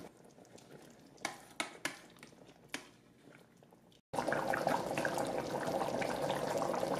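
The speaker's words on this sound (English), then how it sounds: "press saute. I'll choose more and cook this down to the consistency you'd like" Chicken curry liquid simmering down on the saute setting in an Instant Pot Duo Mini: a few soft pops and sputters at first, then after a brief gap a steady, close bubbling hiss that continues to the end.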